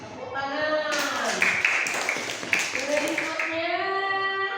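A group of schoolchildren in an Indonesian classroom claps together in a dense burst of applause lasting about two seconds, between stretches of a child and a teacher talking.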